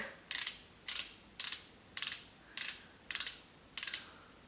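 Seven evenly spaced sharp ratcheting clicks from twisting a Charlotte Tilbury Magic Away concealer pen, each a bright burst of tiny detents, close and clear over a quiet background with no talking.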